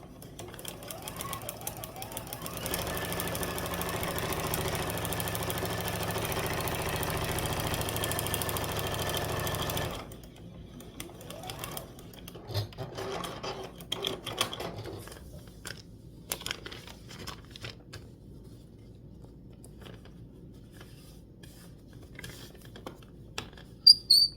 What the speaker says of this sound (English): Flip this over, go back to the machine and sew the next line.